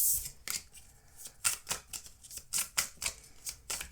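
Oracle cards being shuffled by hand, a run of crisp riffling bursts and soft slaps in an uneven rhythm, close and clear with no talking.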